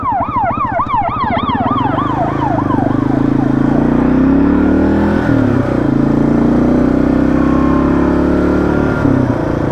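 A second-generation Kawasaki KLR650 with a 685 cylinder swap rumbles steadily while riding, as a wailing emergency siren passes close by at the start and then fades, and engine and road noise carry on.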